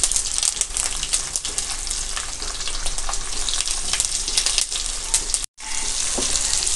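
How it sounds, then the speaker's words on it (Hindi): Okra (bhindi) frying in oil in a pan over a low gas flame, giving a steady, dense sizzle that runs unbroken except for one brief drop near the end. "सारी भिंडियों को हम ये तेल में ऐड करेंगे। गैस की फ्लेम को हम लो ही रखेंगे।"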